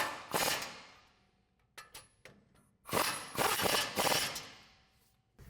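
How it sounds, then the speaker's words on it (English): A ratchet with a 21mm socket tightening front suspension bolts on a Ford F-150, heard as close bursts of rapid clicking separated by short pauses, with metallic taps in between. "And we'll tighten them down with our 21mm socket."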